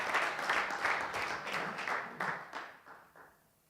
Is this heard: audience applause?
yes